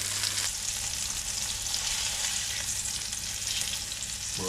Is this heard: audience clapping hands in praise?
no